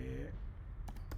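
A few quick keystrokes on a computer keyboard while writing an HTML page, brief and close, coming just after a voice trails off.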